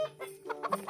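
Recorded chicken clucking in a quick series of short, close, clipped clucks, played back alone with no talk.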